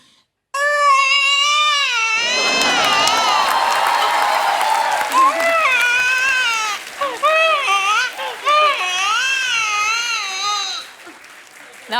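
A voice imitates a newborn baby's wailing cry, loud and close, with wavering sobbing bursts over about ten seconds, before a stage audience that reacts with applause and chatter.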